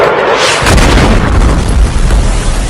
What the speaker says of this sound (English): A huge blast in the center of Ukraine's second largest city.